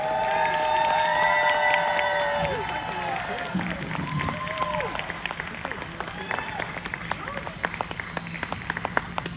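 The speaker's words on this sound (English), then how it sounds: "give them a big, huge round of applause for Mr. Nick Castle, Sandy Johnson, PJ Souls, and Will Sandin" An audience at a Halloween horror convention panel in Tampa claps and cheers for the film's actors, with loud whoops and shouts over sustained applause that settles into a steady patter of clapping.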